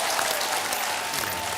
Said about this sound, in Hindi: तालियां आमिर के लिए।